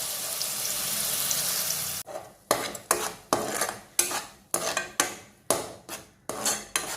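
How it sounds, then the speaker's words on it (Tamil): Ground jackfruit pulp sautéed in ghee for a Kerala-style jackfruit payasam, heard as a steady sizzle for two seconds before a run of sharp, rhythmic scraping and stirring strokes of a utensil against the pan. "லேசாக நெய்யில் கொஞ்சம் அப்படியே வதக்கணும்"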